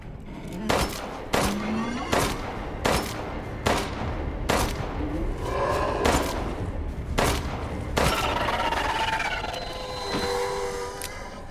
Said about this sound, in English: I guess we'll just shoot him.